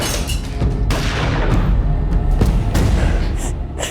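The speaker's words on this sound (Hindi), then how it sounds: "गोली चलने की आवाज आई।" In a crime drama, a gunshot rings out as a heavy, booming blast over sustained loud noise, with several sharp cracks and thuds scattered through the continuous roar.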